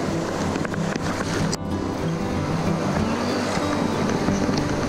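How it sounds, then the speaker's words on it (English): Water rushes steadily over a small waterfall on Abrams Creek in the Smokies, a broad continuous roar of flowing stream close by, with a brief knock partway through and no talk. "There's Steven crossing this waterfall."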